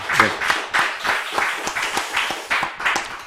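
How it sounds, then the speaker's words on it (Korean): A church congregation claps in praise to God during a Sunday afternoon service, with distinct, fairly even claps sounding at a steady pace across a few seconds and no voices standing out. "우리 하나님께 영광의 박수 올려드리겠습니다."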